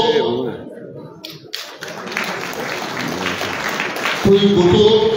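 An audience at a youth empowerment program event in Liberia claps for Prince Boto, a sustained wash of applause from many hands, with a voice speaking over it at the start and again near the end.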